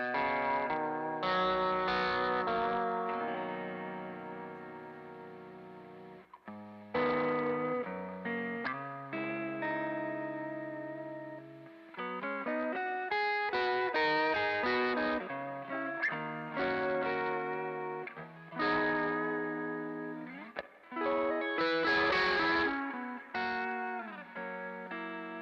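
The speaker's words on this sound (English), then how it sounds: "That's the Mobius, the Strymon Mobius. Almost sounds like a warped vinyl" Electric guitar run through a Strymon Mobius modulation pedal, giving a wobbling, pitch-warped tone like a warped vinyl record; sustained chords and melodic phrases play continuously and loud with brief gaps, no talking.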